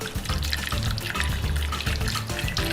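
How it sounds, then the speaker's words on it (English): Water pours steadily from a tap into a pot holding pork belly for Korean boiled pork, a loud, continuous splashing rush that runs unbroken for a few seconds with no talking. "Pour the water until the meat is covered."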